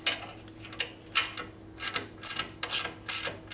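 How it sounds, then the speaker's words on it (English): A bolt being threaded into the frame lug of a 1972 Harley-Davidson 1000cc Ironhead Sportster, producing a series of short ratcheting metallic clicks in an uneven rhythm, close and fairly quiet. "Let's see if it'll actually thread in here all the way without binding up"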